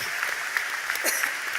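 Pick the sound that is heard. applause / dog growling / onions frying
applause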